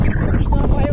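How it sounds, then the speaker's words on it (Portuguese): Strong wind buffets a fishing boat out at sea, a loud continuous rumbling roar against the microphone that fills the whole moment. "muito vento hoje."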